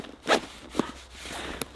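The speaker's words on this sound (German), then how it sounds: "Auch da ein Zwei-Wege-Reißverschlusssystem." A two-way zipper on a Tasmanian Tiger Modular Trooper Pack gives a few quick, close zipping pulls, with light scraping between them.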